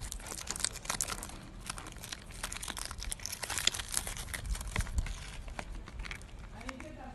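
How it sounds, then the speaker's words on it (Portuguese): Crinkly plastic packaging of a skin-lightening cream ordered from AliExpress is handled and opened, giving steady close crackling and rustling throughout, with speech overlapping. "Quero abrir sem rasgar muito a embalagem."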